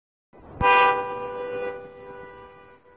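A car horn blares once in a sustained honk near a street altercation, loud and close, holding for over two seconds before fading, with no talking.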